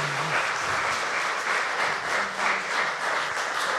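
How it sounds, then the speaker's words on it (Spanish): Congregation applause at a church service, dense sustained clapping from a large crowd, loud and continuous throughout. "Dale un fuerte aplauso al Señor"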